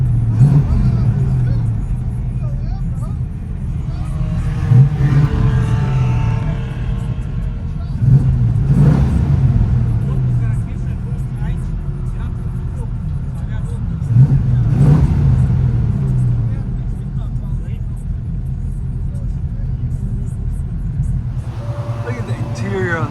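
A 1971 Buick Riviera with a 455 V8, headers and a Borla Pro-XS exhaust, heard from inside the car: a deep steady engine rumble with several swelling revs, and voices talking over it.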